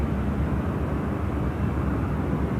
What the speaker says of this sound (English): Team Air now departing. It's the Team Global Express aircraft.